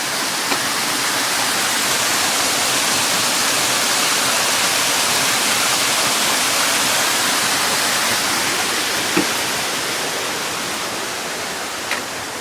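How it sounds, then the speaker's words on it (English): A small waterfall on a creek along the Appalachian Trail rushes steadily and loudly nearby, a continuous broadband roar with only a couple of faint clicks and no voices. "Nice little waterfall."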